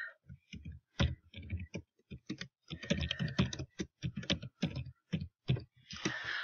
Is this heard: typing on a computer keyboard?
yes